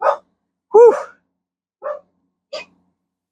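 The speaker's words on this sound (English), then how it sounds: "I don't know if you can hear the dogs barking" Four short, separate dog barks with silent gaps between them, fairly close and loud, the second bark the strongest.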